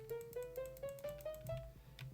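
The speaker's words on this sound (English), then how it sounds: "Now a regular note block sounds like this." Minecraft note block in its regular harp-like tone, played as a rising run of about nine evenly spaced plucked notes, clear and alone over a faint game-ambience background.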